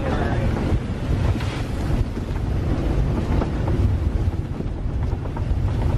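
Strong squall wind roars over a microphone aboard a sailboat in gusts near 60 knots, a loud continuous buffeting rumble with water noise beneath, steady and unbroken throughout.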